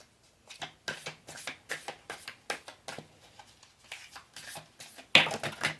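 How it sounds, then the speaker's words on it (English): Spirit Oracle cards shuffled by hand in a steady run of soft, papery riffles and slaps, about a dozen bursts with brief gaps, close and fairly quiet, ending in one louder snap of the deck. "start pulling the Spirit Oracle cards for you, Aquarius"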